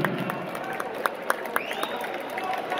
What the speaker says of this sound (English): let's have a big round of applause, please, for both of the fighters in this ring